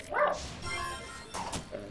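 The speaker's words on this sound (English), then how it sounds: "that blaster bark sounded a little confused, a little bit introspective" In the video game Trine, a dog gives a short yappy bark followed by a rough, drawn-out whining note, close and fairly loud over faint game sounds.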